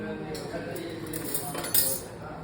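Metal spoons clink against dishes at a casual home get-together, light scattered taps with a sharper clatter near the end, under a busy room murmur.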